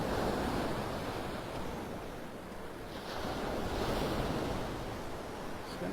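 Ocean surf washes onto a sandy beach on a stormy morning, a constant broad roar with swells rising and falling, mixed with wind buffeting the microphone.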